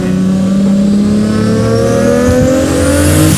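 Big-turbo 2JZ engine in a 750 hp Toyota Supra pulling hard under acceleration on a mountain road, a loud continuous roar with rising pitch as revs climb, close and steady with no talk.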